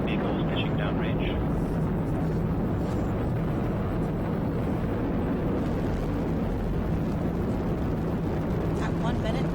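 A SpaceX Falcon 9 rocket climbs after liftoff on the CRS-15 cargo launch to the space station, its continuous broadband roar steady and dense for the whole stretch, with a voice speaking over it.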